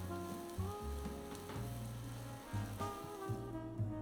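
Sliced shallots sizzling in a frying pan, a soft, steady crackling hiss with gentle intermittent stirring and tonal kitchen hum beneath, no voices.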